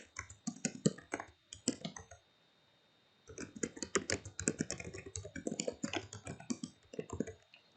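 Close, crisp typing on a computer keyboard comes in quick bursts of clicking keystrokes, with a short pause in the middle before the rapid tapping resumes.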